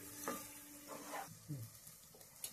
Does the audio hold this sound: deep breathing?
no